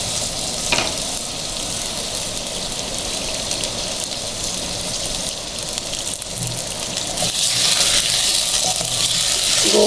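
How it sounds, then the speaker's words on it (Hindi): Mutton pieces hit hot oil in a handi and sizzle loudly and steadily up close, the frying growing brighter and more intense toward the end. "अब इसके अंदर हम डालेंगे गोश्त।"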